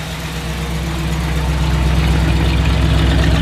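A 1957 Cadillac Coupe DeVille V8 idles close by, its deep dual exhaust burbling in a steady low throb that swells a little louder toward the end.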